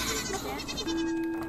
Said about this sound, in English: Look, there's a goat. Look, a goat. The goat came up to me.